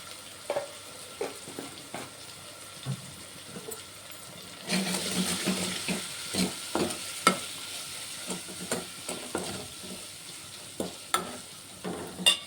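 Turmeric and greens of white galijeru being stirred in a pan, a soft sizzle under repeated scraping spoon strokes that come in uneven bursts, growing somewhat louder partway through.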